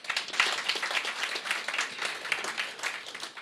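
An audience at a French medical conference day applauds: a dense wash of clapping from a crowd, steady and moderately loud, with quick irregular hand claps blending together.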